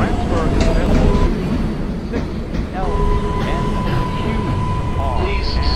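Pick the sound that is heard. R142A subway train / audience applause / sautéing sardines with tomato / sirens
R142A subway train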